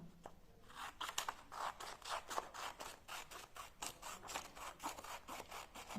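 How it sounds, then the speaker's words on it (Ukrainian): Scissors snip along straight lines into paper for a children's appliqué craft, a quiet series of rapid crisp cuts and rustles close by with no talking. "Ось так робимо надрізи. По прямій ножиці"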